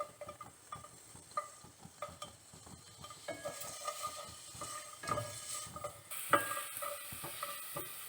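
Garlic roasting in about one and a half tablespoons of oil in a pan for tamarind and date chutney, a soft steady sizzle with frequent light stirring clicks and scrapes, fairly quiet.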